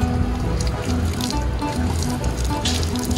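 Tap water running from a faucet in Rome, a steady close splashing stream with a constant gurgle and no voices.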